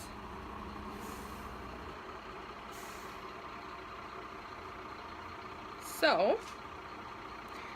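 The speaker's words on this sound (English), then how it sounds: "And I'm so sorry if you can hear that truck outside." A truck out on a busy downtown street rumbles in a steady low drone heard from indoors, ending in a short sharp hissing burst, while a voice speaks briefly nearby.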